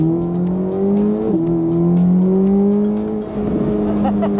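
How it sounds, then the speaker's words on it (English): A 2026 Corvette ZR1's mid-mounted engine roars close behind the cabin, revving and then briefly dipping as it downshifts before pulling again, loud and continuous from inside the car. "because the engine is behind me, there's a mid-engine, and it's like in my ear right now"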